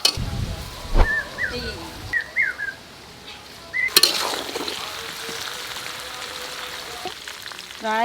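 Mango pieces with turmeric fry in a pan for mango pickle, giving a steady sizzle with occasional stirring scrapes. High chirping whistles from nearby birds break in now and then.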